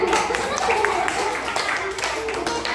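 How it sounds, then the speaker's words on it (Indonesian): Children in a classroom clapping their hands in a brief burst, mixed with loud chatter and voices throughout. "Ya, tepuk tangan."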